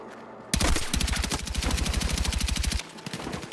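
Rapid automatic gunfire in the video game Battlefield 6 during a night raid, a sustained close burst of shots in quick even rhythm lasting a few seconds after a quiet start.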